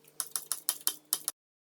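A ratchet wrench is backing out the rear differential bolts on the independent rear suspension of a 1999–2004 Ford Mustang SVT Cobra. Six quick, crisp ratcheting bursts come in an even rhythm, loud and close, and then stop dead into silence.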